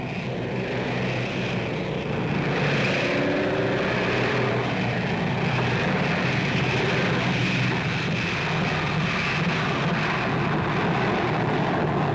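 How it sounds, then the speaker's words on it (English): A steady, droning Dakota propeller aircraft engine roars overhead for the whole stretch, a dense continuous hum that swells slightly in the middle, over the town of Gale in northern Belgium. "Formations of Dakota aircraft fly over the town of Gale in northern Belgium"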